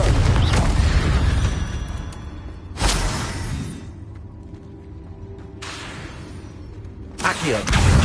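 A Confringo spell explodes in a Hogwarts video game with a loud rumbling boom at the start, then another sharp blast followed by a decaying roar, a quieter stretch, and further bursts toward the end.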